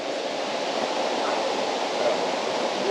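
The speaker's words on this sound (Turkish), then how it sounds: "Şelale değil ama akar inceden bir su var." A small stream of water trickles steadily through dense forest near a modest waterfall, a continuous broadband rushing hiss with no voices over it.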